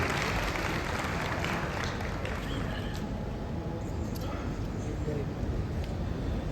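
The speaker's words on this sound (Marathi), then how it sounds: "जोरदार टाळ्या एकदा" A hall audience at a film trailer launch event claps loudly and continuously, a dense, steady wash of applause that fills the room.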